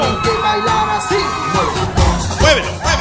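Women in a party crowd shout and whoop with rising cheers and yells, loud and overlapping, during a batucada drumming performance with music and a busy, echoing room.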